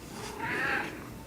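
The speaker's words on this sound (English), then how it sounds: "And that's my cat." An old cat gives a short, soft purr-like vocalization up close, alone and quiet, lasting about a second.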